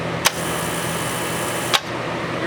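A TIG welder with the foot pedal pressed gives a steady, even buzzing hiss, free of rattle, broken by two brief sharp clicks near the start and the end.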